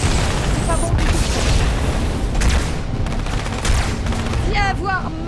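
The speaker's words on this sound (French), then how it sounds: "Grenade! Grenade! Dégagez!" A grenade going off in the Halo 2 video game, heavy booming blasts mixed with sustained gunfire, loud and dense throughout, while voices shout in the background.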